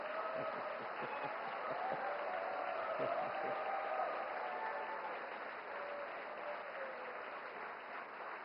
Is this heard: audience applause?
yes